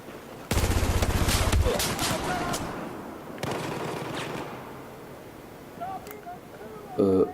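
Rapid bursts of FAMAS rifle fire in Battlefield 4, a loud rattling burst near the start, a second burst midway, then scattered game sounds and a final short burst, with someone speaking French over it.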